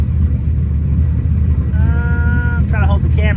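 A car engine rumbles at a steady, lumpy idle close by, with a person speaking over it near the end.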